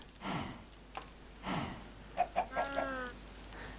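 Chickens in Minecraft cluck in short separate calls, followed by a drawn-out squawk, fairly faint and with no talking.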